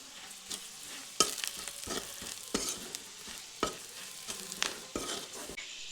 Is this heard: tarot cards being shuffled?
no